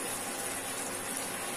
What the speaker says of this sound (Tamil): இத மிக்ஸி ஜார் அலசி கொஞ்சமா தண்ணி சேர்த்துக்கலாம்